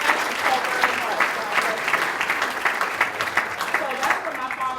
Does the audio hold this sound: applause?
yes